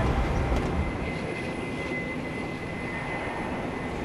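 Airliners landing and taking off at Copenhagen Kastrup Airport: a continuous, fairly loud jet roar with a steady high whine running through it, heard alone without talk.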